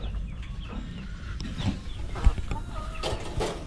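Chickens cluck in a backyard coop, with several short calls scattered through a steady low rumble of yard noise, fairly close and moderately loud.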